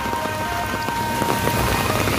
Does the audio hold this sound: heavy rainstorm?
yes